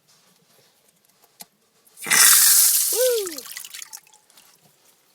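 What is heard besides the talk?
water flowing back through an opened valve from a cabin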